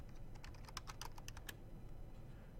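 A quick burst of keystrokes on a computer keyboard types a search, close and clear, then stops after a second or so, leaving a quiet room.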